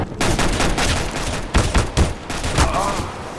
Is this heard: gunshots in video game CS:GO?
yes